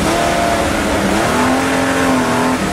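A Jaguar XK140 racing car pulls away with heavy wheelspin, its engine roaring loud and close with a rising whine as it accelerates.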